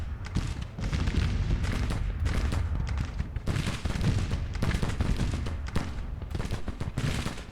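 Dense volleys of cannon and musket fire from a Civil War battle in the video game Grand Tactician: The Civil War, with overlapping booms and crackling shots rolling on loudly and continuously without pause.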